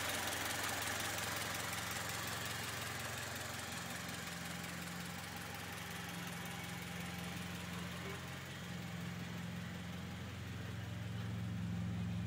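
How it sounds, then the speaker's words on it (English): Honda Accord Type R with an H22 engine idling steadily after ignition, a continuous low mechanical hum and vibration throughout at close range, with no clear separate start-up burst. "And there's the ignition."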